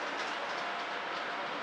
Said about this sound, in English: There goes monorail red.